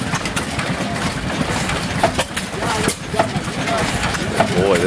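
A 25 HP Black Bear oil field engine runs at a gas up show, a steady low chugging drone heard nearby and continuous, with people talking over it.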